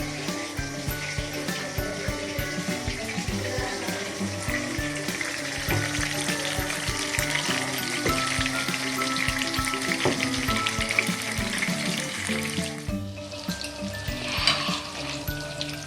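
Fish fries in hot oil in a pan as the pieces are slowly turned, producing a close, constant sizzle studded with sharp pops and crackles throughout, with no voices.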